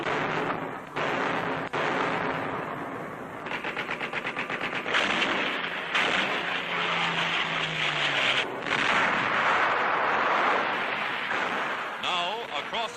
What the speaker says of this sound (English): Across Lake Bizerte, U.S. artillery reduces the Nazi-held naval base.